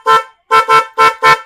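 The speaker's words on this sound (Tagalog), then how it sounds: "So ito naman yung dual horn natin." A motorcycle's aftermarket dual horn blares in five loud, short honks: a single blast, a pause, then a quick pair and two more, all close and clear with no talk.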